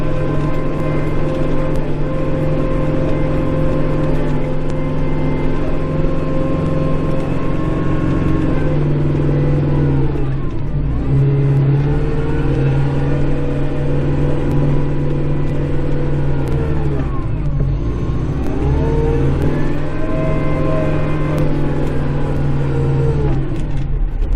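Snowblower attachment on a skid steer running steadily at close range from inside the cab, a loud continuous engine drone with mechanical whine that dips and swells as the load changes.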